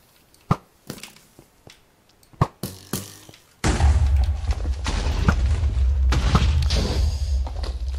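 A Minecraft survival explosion, placed with a slab, breaks out as a loud, sustained low roar that fills the second half, preceded by several sharp in-game thuds and pops.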